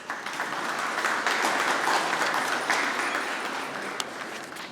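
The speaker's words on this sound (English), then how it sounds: "Please give yourselves a big round of applause." A room full of people applauds at a civic address by a lord mayor in Hobart, sustained dense clapping at steady volume throughout with no voices over it.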